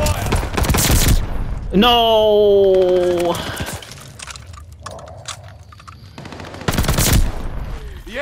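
Video game gunfire erupts at a hard point under attack, with loud bursts of rapid shots at the start and end, a ringing electronic tone between them, and a voice speaking briefly.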